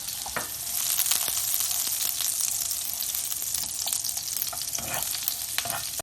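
Butter, margarine and oil sizzle steadily in a pan, a continuous crackling hiss close by with faint scattered pops and no talking.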